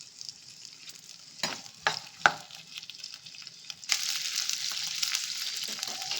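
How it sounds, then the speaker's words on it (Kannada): Onions frying in a pan as the base for a country chicken curry, a few sharp stirring knocks followed by a steady, rising sizzle that holds close and continuous. "ಸ್ವಲ್ಪ ಫ್ರೈ ಮಾಡ್ಕೊಳ್ಳೋಣ."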